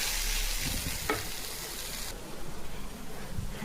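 Bitter gourd stir-fry frying in hot oil, a steady close sizzle with hiss and light stirring scrapes, continuing alone without talk.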